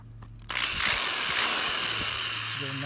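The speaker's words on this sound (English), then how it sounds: "So using this, I'm going to grind away" A high-pitched power tool whines up and grinds steadily into a Chevrolet badge, loud and close, its shrill tone wavering slightly as the cut continues before easing toward the end.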